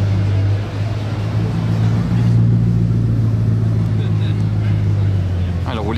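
A pair of Bugatti Chiron supercars rumble by on Monaco's streets during the F1 Grand Prix weekend, a loud, steady low engine drone that swells slightly midway, with a busy crowd hum underneath.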